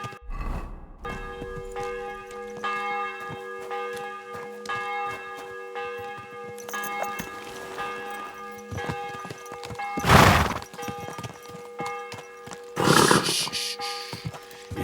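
Hooves clip-clop steadily on a ride through the Kingdom Come Deliverance 2 video game world, with a church bell ringing and a horse snorting and whinnying, plus brief louder bursts of noise.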